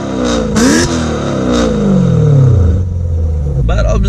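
A BMW E92 M3 fitted with an Armytrix valved exhaust, valves closed, revs up and back down in a smooth, full-bodied rise and fall, loud and close, with a voice talking over it.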